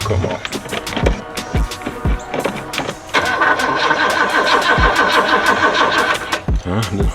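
A 1987 Oldsmobile Cutlass that sat for 25 years cranks repeatedly without catching, its starter grinding in loud rhythmic churns with brief pauses and a longer continuous crank in the middle, close and alone.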